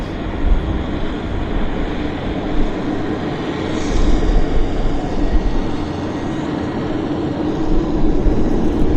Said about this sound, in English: And here comes our Westjet.